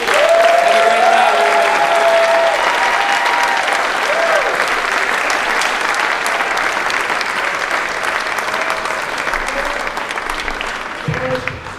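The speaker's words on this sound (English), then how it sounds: "Let's give them one more round of applause." A large audience applauds steadily and loudly after a singing act at a variety show, the dense clapping holding for the whole stretch and tapering slightly toward the end.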